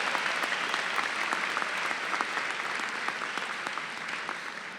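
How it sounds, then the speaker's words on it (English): A commencement audience applauds a graduating student who has just sung, sustained dense clapping at steady volume for the whole stretch with no voices over it. "Give him a round of applause, please"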